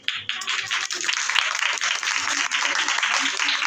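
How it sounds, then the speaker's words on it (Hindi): A church congregation breaks into applause, a dense wash of clapping that starts at once and holds steady throughout, with a voice speaking over it. "खुदावंद के कलाम के लिए जोरदार तालियां।"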